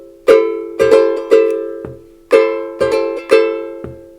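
Ukulele strummed in a Cook Island-style advanced pattern, sharp rhythmic chord strokes with quick rolling multi-strum flurries, played loud and close in two repeated phrases with no talking.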